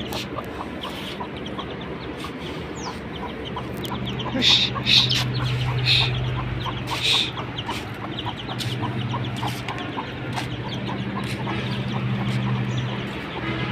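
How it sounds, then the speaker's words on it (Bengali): A chicken walking on a rooftop clucks softly in short repeated bursts amid steady outdoor background noise, with a few louder calls partway through. "তো এই যে আমার মুরগি ছাদে হাঁটতেছে"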